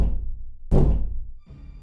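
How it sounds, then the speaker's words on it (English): Heavy, close thuds like a foot stomping hard on a floor, each ringing out briefly before the next hits. They come one after another in a slow rhythm, with no voices. "there were two loud thuds"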